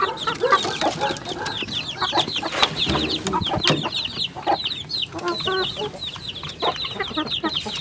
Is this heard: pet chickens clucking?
yes